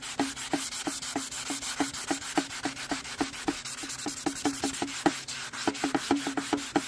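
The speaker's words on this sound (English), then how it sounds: "you want to sand this down to where it is absolutely flat without burning through" Sandpaper rubs back and forth over the clear coat on a custom painted motorcycle part, a steady rhythmic rasping of quick strokes, close and continuous without speech.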